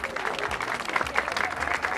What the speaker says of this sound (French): elle s'exprime plutôt par ses modèles que je vous demande d'applaudir très fort, s'il vous plaît.